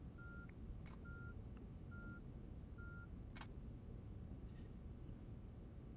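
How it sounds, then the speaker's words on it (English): A truck reversing in the video game On The Road Truck Simulator, with four evenly spaced faint electronic beeps over a loud steady engine rumble and two short sharp clicks. "I can hear it beeping."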